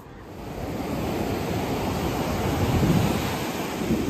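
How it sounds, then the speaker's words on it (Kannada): Ocean waves roll and surge onto a beach, a loud, continuous wash of surf that swells gradually, with wind buffeting the microphone and no talking. "ವೇವ್ಸ್ ಎಷ್ಟು ಹೈಟ್ ಇದಾವೆ ಅಂತ ತೋರಿಸ್ತೀನಿ"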